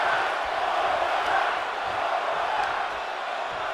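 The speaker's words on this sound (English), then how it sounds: "The crowd going absolutely insane in tonight's sold-out show." A large crowd at a sold-out wrestling show roars and screams in a sustained, dense wall of cheering that stays loud throughout.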